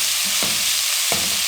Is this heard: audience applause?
no